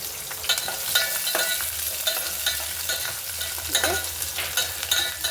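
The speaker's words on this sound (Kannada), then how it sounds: "ಸ್ವಲ್ಪ ಫ್ರೈ ಆಗಲಿ" Onions fry in oil for horse gram sambar, a continuous close crackling sizzle with occasional stirring scrapes and clicks, no voices.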